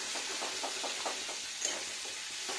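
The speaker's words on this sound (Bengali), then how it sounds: "ঢেলে দিলাম আলুর পটল।" Potatoes and pointed gourd are poured into a hot pan for a vegetarian curry and sizzle with a faint, even frying hiss. A few soft knocks and stirs sound over it. No one speaks.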